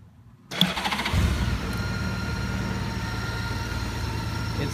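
A 2012 Honda Goldwing motorcycle engine cranks and catches, then settles into a quiet, smooth, steady idle close by.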